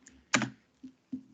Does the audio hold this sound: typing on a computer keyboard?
yes